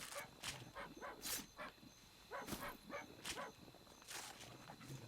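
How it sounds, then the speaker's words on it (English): A dog barks in several short, faint bursts spaced irregularly across a few seconds, heard at a distance over quiet background noise. "What are you barking at, Zai?"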